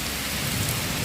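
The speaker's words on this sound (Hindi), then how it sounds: "बारिश आने लगी है बहुत तेज" Heavy rain pours steadily during a thunderstorm, a dense continuous roar of downpour with low rumbling underneath, loud and close throughout with no voices.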